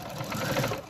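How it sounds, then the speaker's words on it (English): Sewing machine stitching fabric pieces for lounge shorts together, a continuous close rapid mechanical whirring with a fast fluttering rhythm throughout. "we'll go over to our sewing machine and sew them together"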